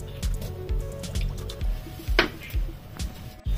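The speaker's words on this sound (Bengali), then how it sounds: "সাদা তেল দিয়ে দেবো ডাল পুরি ভাজার জন্য।" White cooking oil goes into a hot wok for frying puris, with soft liquid drips, a brief splashy squish midway and light clinks of the pan, fairly close and quiet.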